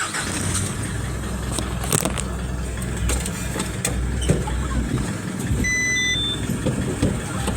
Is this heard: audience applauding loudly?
no